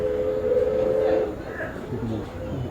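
A local train arriving at a station on the Oigawa Railway sounds a steady, tonal whistle for about a second, then a low rumble of rail cars rolls on with faint voices in the background.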